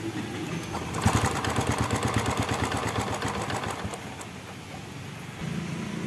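A TVS XL100 BS6 moped with a faulty engine temperature sensor chugs in a rapid, rhythmic putter at close range, then fades and dies away toward the end.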